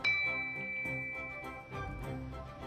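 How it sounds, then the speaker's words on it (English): An ancient Zenghouyi bronze chime bell (bianzhong) of the Marquis Yi of Zeng, about 2,400 years old, is struck several times. Each strike gives a clear, sustained metallic ring that overlaps and decays, with no voices. "Each bell can produce two tones, hence the name two tones in one."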